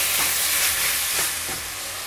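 Spices frying in a hot pan with salt, red chilli powder and bay leaf, a steady loud sizzle with a few stirring scrapes, no voices.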